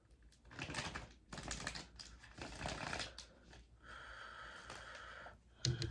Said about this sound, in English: Two more shuffles for the star sign of Aries.